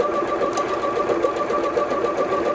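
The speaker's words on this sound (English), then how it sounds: "when doing decorative stitching where it is moving backwards and forwards to not push or pull the fabric, we're just guiding it through" A Bernette B38 sewing machine runs a decorative stitch, a steady loud mechanical whir with a fast even pulse throughout, close and without voices.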